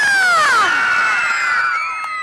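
A group of children at a storytime in Roxbury, Boston, scream together in a loud, high, overlapping burst close by that slowly fades over about two seconds.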